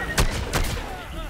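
Gunfire in the Plants vs Zombies 2 3D video game: two sharp, loud shots about a third of a second apart over busy game noise and background sound.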